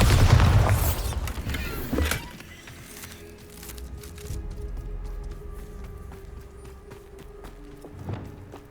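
A Bombarda spell in Hogwarts Legacy bursts with a loud explosive boom right at the start, then its rumble gives way to quieter footsteps and ambient game sounds.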